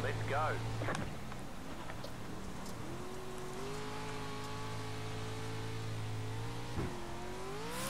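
An off-road truck engine in the iRacing sim at Wild West Motorsport Park drones steadily and climbs in pitch as it accelerates, running continuously under someone speaking French.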